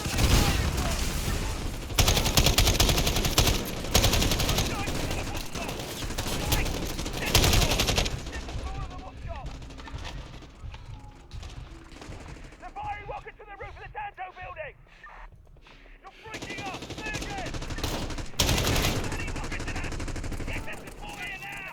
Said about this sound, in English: Enemy sniper fire, got shot in the back